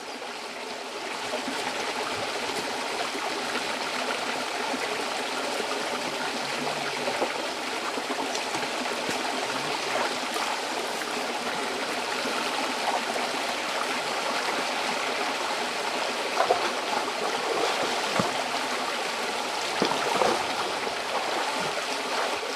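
A stream flows steadily at a spot where people bathe, its continuous babble and trickle holding an even level for over twenty seconds, with a few slightly louder splashes near the end and no talking.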